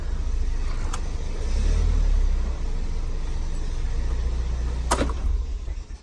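A Pontiac Solstice GXP with a five-speed manual gearbox pulls into a garage, its engine giving a steady low rumble throughout, with a couple of sharp clicks or knocks and a swell in the middle.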